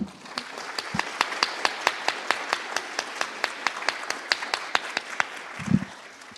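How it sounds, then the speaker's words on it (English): A short round of scattered audience applause at a migration symposium, a few hands clapping in an even, distinct rhythm, fairly quiet with a brief rustle near the end. "Maybe a short applause for Olavi."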